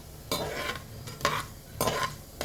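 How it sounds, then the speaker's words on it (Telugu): Mustard seeds splutter and crackle in hot oil in a pan, coming in three short bursts of popping over a faint sizzle, close and fairly quiet. "1/2 స్పూన్ ఆవాలు వేసుకుందాము. ఇది చిట్టపట్టలాడాలమ్మా."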